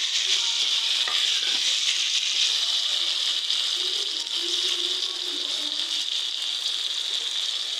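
Curry masala for a fish curry fries in oil in a pan, giving a steady, even sizzling hiss that holds throughout without pause.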